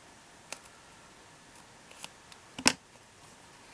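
Scissors snipping paper while trimming a Christmas card-making kit in half, a few quick, sharp, close snips with the last cut loudest, over a quiet background.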